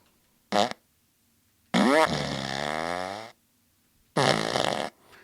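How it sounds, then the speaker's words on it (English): A cartoonish fart sound effect plays three times: a short pop, then a long sputtering blast that trails off, then another drawn-out blast, loud and close with silence between. "That is Rudy Giuliani's fart COVID infecting Jenna Ellis during that fake hearing."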